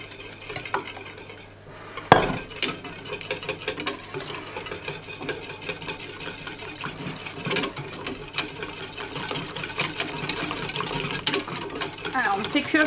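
A whisk beats an egg and lemon mixture in a pan over low heat for a lemon cheesecake tart, a fast continuous metallic scraping and clinking against the pan, with someone talking over it.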